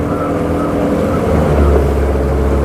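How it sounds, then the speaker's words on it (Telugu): A ferry boat engine on a river ride at Yanam drones loud and close with a steady low rumble and throb, no voices over it. "అది మన ఫేరీ బోటు."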